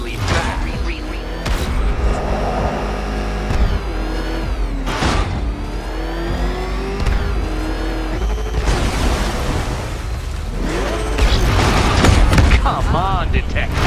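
The Batmobile engine in the video game Batman: Arkham Knight, a loud sustained revving roar that climbs and falls through gear changes with bursts of acceleration, and a voice talking over parts of it.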